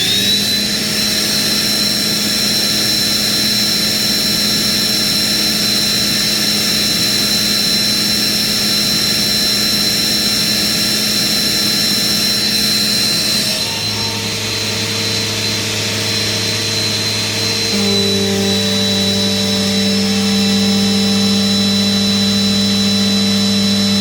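A Sanitaire Professional SL4410A upright vacuum cleaner runs loud and steady during an airflow test, a constant motor whine with a high tone whose pitch shifts in distinct steps partway through, with no talking.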